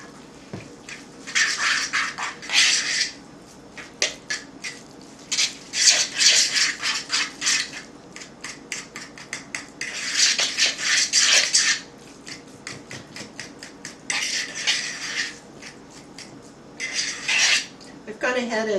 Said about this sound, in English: Now I'm going to add my 1 cup of cooked cauliflower. And mix that up.